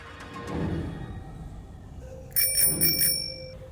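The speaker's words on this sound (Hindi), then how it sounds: "घंटी मत बजा" A bicycle bell rings with a few quick metallic dings at the start, then a louder, closer burst of repeated rings near the end.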